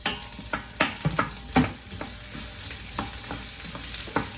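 Garlic and onion frying together in a pan, a steady close sizzle broken by repeated sharp scrapes and clinks of stirring.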